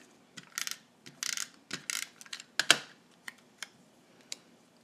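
A Snail adhesive tape runner is pressed and drawn across paper for a handmade tea cup card, giving quick, close, scratchy clicks and ratcheting bursts in irregular clusters.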